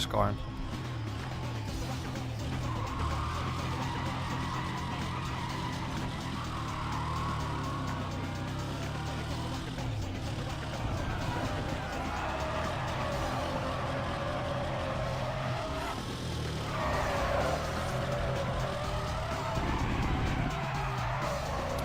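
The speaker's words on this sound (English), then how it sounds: "Camaro SS with 800 horsepower." An 800-horsepower Camaro SS in the Need for Speed ProStreet racing game, its engine droning steadily with tire squeal and skidding throughout, while a person talks over it.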